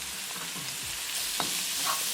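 Paneer fries in a pan with a spiced tadka, giving a dense, continuous close sizzle with a couple of soft stirring scrapes.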